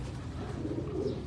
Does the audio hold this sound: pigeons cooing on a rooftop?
yes